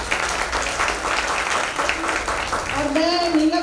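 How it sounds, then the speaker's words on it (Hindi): Applause for a top-ranked girl student at a school annual function, with many people clapping steadily, then a voice begins speaking near the end while the clapping continues. "जोरदार तालियां इस बच्ची के लिए।"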